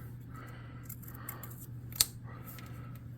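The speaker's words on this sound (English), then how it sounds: "I'm going to cut a thin strip here" A lone quick snip of a blade cutting a thin strip of craft material for a miniature lumber camp hut, one sharp cut standing out over a steady low background hum, no talking.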